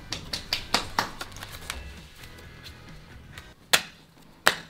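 A deck of playing cards being cut by hand during a card game, heard as a run of light, close, crisp taps and riffles followed by two sharper snaps after a short pause.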